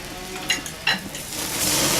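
A steak sizzles and flares on a gas grill, a steady frying hiss rising toward the end, broken by a few sharp scraping clicks as the meat is moved.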